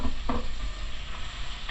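Onions and garlic sizzle in melted butter in a pan, a close steady crackling fry with a couple of stirring scrapes near the start.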